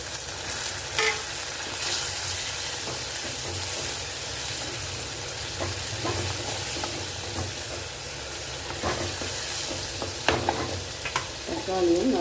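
Hand-crushed tomato sautés with softened onion in a pan, a constant moderate frying hiss broken by occasional scraping and clicking stirs, with no one talking.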